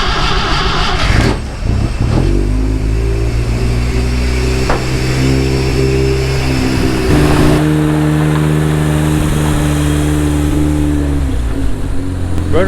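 A Willys Jeep engine cranks and fires up, then settles into a loud, steady mid-pitched running rumble close by with a few revs, no talking.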